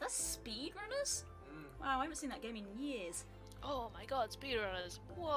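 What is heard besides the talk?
No distinct noise like a dog, phone or traffic.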